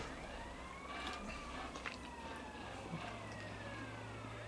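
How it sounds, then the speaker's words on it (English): Fire truck siren in the video game Grand Theft Auto: Vice City Stories, a faint wailing tone rising and falling over steady engine rumble and game noise, quiet and distant in the mix. "Turn the siren on with the one you drive with."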